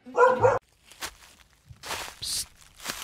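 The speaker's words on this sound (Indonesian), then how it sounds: "gejala umum dari rasa takut ini adalah menggonggong terus-terusan" A dog gives a few short, separate barks and yips with quiet gaps between them, fairly close and moderately loud, with no talking.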